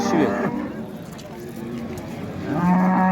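At the Baliqchi cattle market a cow gives a loud nearby moo at the start and another at the end, with a quieter stretch of market bustle and faint voices between.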